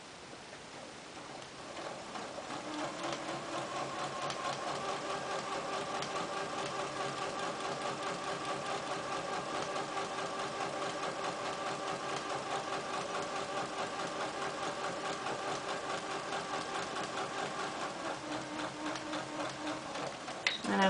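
A sewing machine stitches an exposed zipper in one long, steady run, its motor humming and needle ticking evenly at close range from start to finish, with no speech over it.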